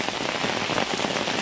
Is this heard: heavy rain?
yes